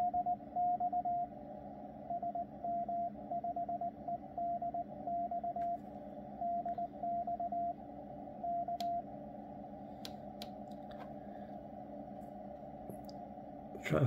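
Morse code CW tones from a Yaesu FTDX101MP transceiver beep on and off in an irregular keyed rhythm over steady receiver hiss, then stop, leaving hiss with a few sharp clicks.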